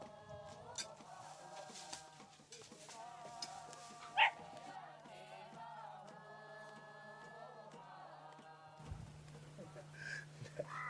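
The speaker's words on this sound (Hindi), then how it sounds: "देवो पिल्ला वहीं रख।" Faint, high yips and small whimpers from a young dog come through sporadically, mixed with distant talking and background hum.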